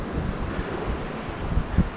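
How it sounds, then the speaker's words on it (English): Ocean waves on the Suffolk coast, a continuous broad wash of surf mixed with heavy wind buffeting the microphone, steady and fairly loud with a few low thumps near the end. "you've got the sound of the waves"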